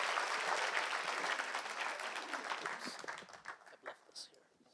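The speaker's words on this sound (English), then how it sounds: "Can we please have a round of applause for, I think, our fantastic" A conference luncheon audience applauds after a keynote address. The clapping starts thick and full, then thins and fades away into a few scattered claps near the end.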